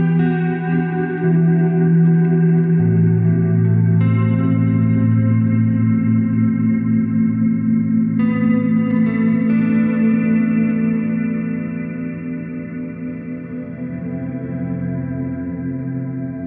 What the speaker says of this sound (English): a standard sort of reverb sound through the poly algorithm